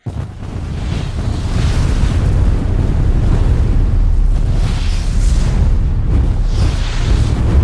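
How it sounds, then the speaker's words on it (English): Hydrothermal explosion at Yellowstone National Park, heard as a sustained, loud, roaring rush with deep rumbling underneath and gusty surges, like heavy wind or surf, continuing without a break. "Two days ago in Yellowstone National Park was an explosion."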